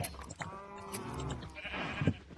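Sheep in a Minecraft pen bleat in a few short, wavering calls, close and fairly clear over faint game ambience.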